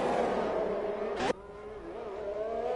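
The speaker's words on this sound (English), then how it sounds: "Into the pits goes Wombat." An F1 car in the racing game F1 2021 drives into the pits at Abu Dhabi with a steady, loud engine drone, broken by a short sharp burst before the tone drops and settles lower.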